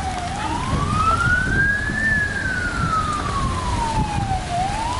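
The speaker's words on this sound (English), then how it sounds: "I feel like the sirens is getting closer." A wailing emergency siren during a tornado warning rises slowly and then falls in one long sweep, loud and fairly close, over a rumbling background.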